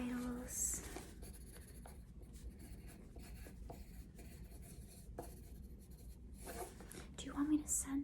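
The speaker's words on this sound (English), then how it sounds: "Just going to write down your vitals." Pen scratching notes onto paper in a doctor's office, soft and close, with intermittent strokes over a hushed background and a quiet voice murmuring in places.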